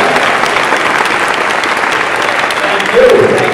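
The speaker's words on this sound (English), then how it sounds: "maybe everybody give him a round of applause" An audience at a Stan Lee comic con panel applauds for a speaker: continuous dense clapping from a large crowd, loud and close, swelling slightly near the end.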